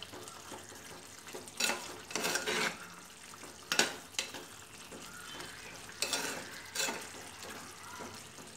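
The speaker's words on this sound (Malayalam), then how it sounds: "നമുക്കിത് തുറന്ന് നന്നായിട്ടൊന്ന് ഇളക്കിയിട്ട് കൊടുക്കുക." Green mango curry being stirred in a pot, with scraping bursts of the spoon against the metal at irregular intervals over a low, soft simmer. The sounds are close and moderately loud, with no talking.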